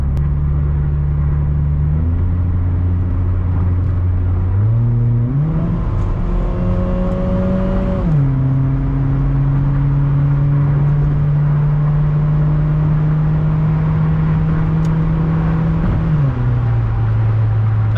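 Engine of a 2002 Mitsubishi Lancer on the highway at full throttle, a loud steady drone climbing through several gear changes with a rising whir, heard from inside the car with no talk.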